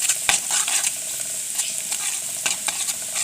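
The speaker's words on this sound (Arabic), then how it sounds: "دلوقتي انا بحمر البطاطس" Potatoes frying in hot oil for moussaka give a steady close sizzle and crackle with scattered sharp pops and stirring clicks; no one speaks.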